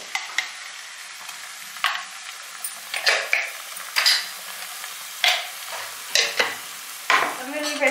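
Ginger garlic paste fries in a pan with a soft sizzle while a spoon scrapes and stirs it in repeated sharp strokes, close and clear with short pauses between.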